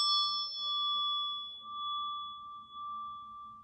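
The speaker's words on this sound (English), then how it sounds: "So I'm going to ring this chakra bell for you, sacral chakra." A sacral chakra bell is struck once, giving a bright clear ring with a long sustained tone that slowly fades over a few seconds, heard alone.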